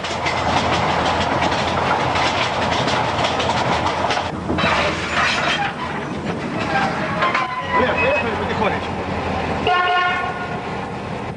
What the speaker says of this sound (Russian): как поезд мчится по рельсам, под которыми прогнившие шпалы